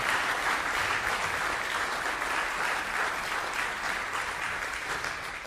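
A live concert audience applauds at the Reeve, giving a dense, steady wash of clapping that holds at full strength and fades slightly toward the end.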